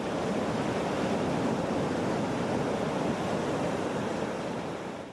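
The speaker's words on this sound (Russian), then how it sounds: "На этих кадрах Артем покоряет волны Тихого океана" Pacific Ocean surf off Kamchatka, a constant loud roar of breaking waves with wind buffeting the microphone, no voices.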